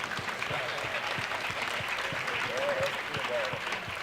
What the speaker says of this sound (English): Give another round of applause for Zion.